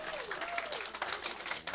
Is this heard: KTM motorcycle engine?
no